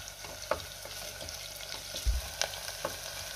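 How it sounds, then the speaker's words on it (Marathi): Chopped onion and ginger-garlic paste sauté in a hot pan, with a soft, steady sizzle and occasional light scrapes and taps from stirring. "त्यात आपल्याला आलं लसणाची पेस्ट घालायची, पुन्हा 1 मिनिटभर चांगलं परतून घ्यायचंय।"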